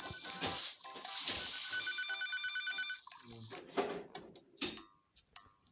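Electronic telephone ringtone trilling steadily for a few seconds in the game Papa's Cheeseria To Go, then stopping, followed by a few short clicks and knocks.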